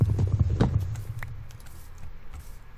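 Horse hooves clip-clop at a walking pace in Minecraft, a quick run of close, fairly loud steps that thin out and fade over a few seconds with no talking.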